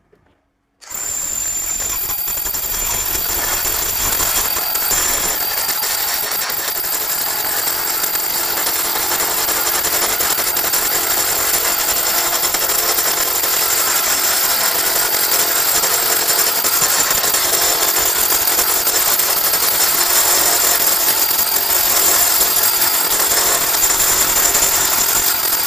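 SDS Plus rotary hammer boring in impact mode, a loud, steady, continuous hammering whir that runs unbroken for the whole stretch after a brief silent start.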